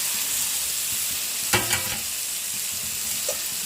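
Onions frying in a pan are stirred together with green chillies and tomatoes: a steady sizzle runs throughout, broken by a couple of short scraping stir strokes near the middle and a faint clink later.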